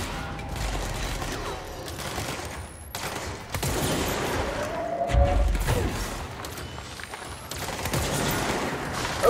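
Gunfire in a shooter video game, with dense bursts of shots and impacts layered over continuous game noise, loud and sustained throughout.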